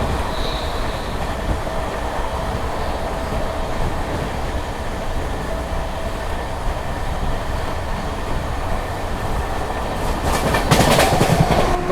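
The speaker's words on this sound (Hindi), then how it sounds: "हमारी ट्रेन अब ऑन टाइम चलने लगी है और 130 की रफ्तार में दौड़ रही है" Andhra Pradesh Express, a monsoon-season train, running at 130 km/h: a steady loud rumble and rattle of the coach with continuous wheel clatter, swelling louder near the end.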